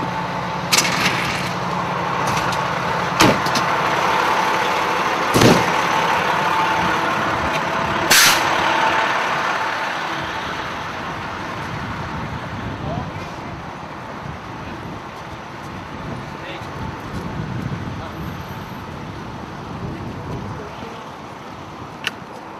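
A fire engine arrives on scene: heavy truck engine rumbles nearby with sharp hisses of air brakes, then idles steadily as faint voices murmur in the background.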